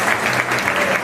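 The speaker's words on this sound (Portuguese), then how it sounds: "Uma salva de palmas a todas as padarias criadas" Audience applause at a bakery awards ceremony, a brief burst of dense clapping from a large crowd, steady and fairly loud.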